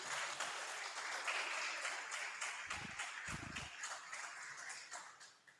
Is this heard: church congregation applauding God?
yes